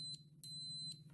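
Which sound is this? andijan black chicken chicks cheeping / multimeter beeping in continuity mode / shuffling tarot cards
multimeter beeping in continuity mode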